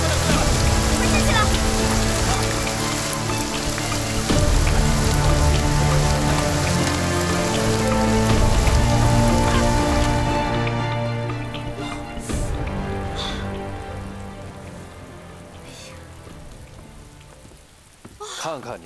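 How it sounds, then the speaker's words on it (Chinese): Heavy rain drums on surfaces in an outdoor period drama scene, a loud dense patter that fades partway through as other sounds come in, with faint voices underneath. "下雨了，快把雨布支起来"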